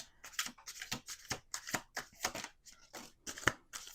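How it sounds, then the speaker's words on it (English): Tarot cards are shuffled close to the microphone in quick riffling bursts, a series of crisp papery flutters repeating roughly twice a second, quiet and alone with no voices. "Let's do 2 more shuffles."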